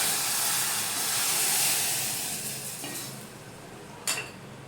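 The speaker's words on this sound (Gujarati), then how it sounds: "જે આ વઘાર છે તે આપણે આ મિશ્રણમાં એડ કરી લેશું." Hot mustard-seed tempering poured into a kadhi mixture gives a loud, hissing sizzle that slowly fades, ending with a short clink near the close.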